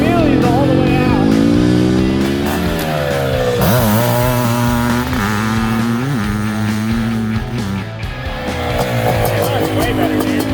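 Restored Suzuki Quadzilla 500 ATV two-stroke engine revving hard nearby, a loud buzzing, rising and falling wail with repeated throttle blips, people talking over it.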